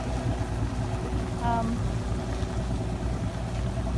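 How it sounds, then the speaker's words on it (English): A steady motorboat engine drones through constant rushing noise, with a faint voice briefly audible in the middle, during a boat ride through a flooded street in the rain. "We're going to go on a boat ride."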